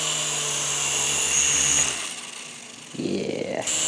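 A toy helicopter's small motor whines close by at full throttle, then dips briefly before revving back up to a high buzzing whir.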